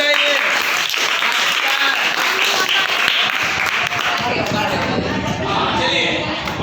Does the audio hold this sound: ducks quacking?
no